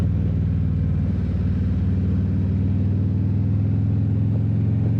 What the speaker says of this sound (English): I just wanted to give the bike a run, to be honest, because I've not winterised it.